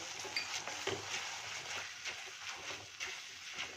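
Tomato ketchup is stirred into spiced garlic butter in a pan, making soft scraping and light clinking of a spoon against metal in a quiet, irregular rhythm.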